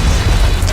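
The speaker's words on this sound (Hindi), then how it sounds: "जब सुल्तान महमद खान हमला करते हैं तो उस तोप का गोला ईवन के शहर के अंदर भी जाता है और सिपाहियों पर जाकर गिरता है" A cannon firing and its cannonball exploding in a historical TV series trailer: a loud, heavy, rumbling boom filling the short moment with no talk.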